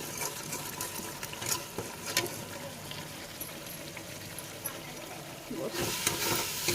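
Masala fries in oil in a pan for a potato curry, a faint sizzle broken by scraping stirs and occasional louder spatters.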